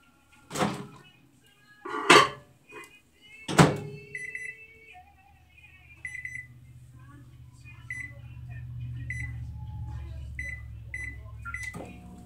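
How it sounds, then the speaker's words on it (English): A microwave oven hums steadily while melting butter for frosting. A few door thunks and beeps come first, then a low continuous drone runs to the end, with no voices over it. "you want to put it in your microwave for 35 seconds or 30 seconds"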